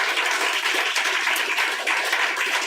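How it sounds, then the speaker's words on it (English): An audience at a literary press reading applauds the authors, a dense, even roar of clapping heard close and sustained without pause, with no voices over it. "a round of applause for all of our authors, please."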